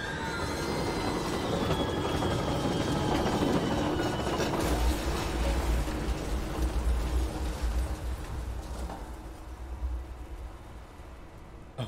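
Train in the Control AWE video game rolls along with loud rumbling wheels and metallic squeals, a deep continuous clatter that swells then slowly thins out, with no voices over it.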